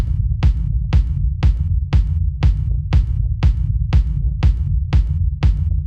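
Punchy, distorted 90s-style hard techno rumble kick drum thumping in a steady four-on-the-floor pulse, about twelve hits, loud and heavy with a booming low end and no other sounds.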